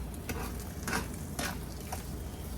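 Fluffy eggs sizzling in a pan for steak and eggs meal prep, a constant frying hiss broken by about four scraping stirs as they are turned.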